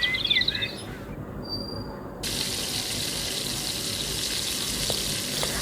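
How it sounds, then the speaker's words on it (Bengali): Beef frying in butter in a pan for a sizzling dish, giving a steady hissing sizzle that settles into a constant wash after a brief higher chirp at the start, close and continuous. "এখানে আমি বাটার দিয়েছি, আর বাটারে আমি মাংসটাকে ভালো করে ভেজে"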